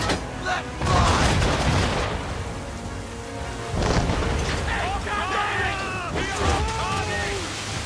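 Ship cannons firing during a naval battle in the video game Assassin's Creed III, heavy booms over wind and sea surf, with shouted voices and other game sounds.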